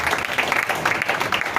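An audience at a church fundraising service claps in a dense, steady burst of applause that sounds close and fills the whole moment.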